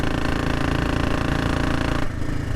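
A Royal Enfield Bullet motorcycle with sidecar runs with a loud, steady engine rumble, a rough, throbbing low tone, dropping slightly near the end.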